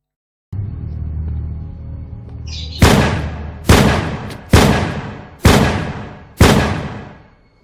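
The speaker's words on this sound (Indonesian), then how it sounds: "Chapman mencabut senjatanya dan melepaskan 5 tembakan langsung" Five loud, sharp gunshots ring out in an even sequence from a handgun as Mark David Chapman shoots John Lennon near his home, each blast decaying briefly, following a low steady rumble.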